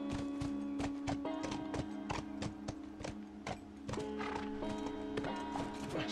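Horse hooves clop in a steady, rhythmic walk in The Last of Us, each footfall crisp and close, carried over a sustained tonal hum of background game audio.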